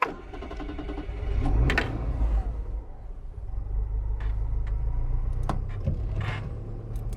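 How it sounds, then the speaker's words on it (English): A Citroen GSA's flat-four engine cranks and catches, then settles into a low, steady idle rumble close by, with a few clicks and knocks over the hum. "Flat 4 engine purrs into life."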